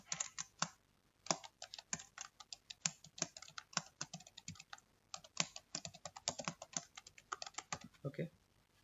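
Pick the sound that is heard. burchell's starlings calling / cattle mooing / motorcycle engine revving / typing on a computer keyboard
typing on a computer keyboard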